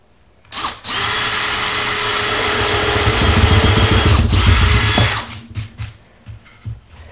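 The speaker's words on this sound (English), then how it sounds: "Now I'm going to take this drill bit. It's got a countersink on it" A power drill with a countersink bit whirs steadily for about four seconds, its pitch shifting as it bites into wood, then stops, followed by a few light knocks.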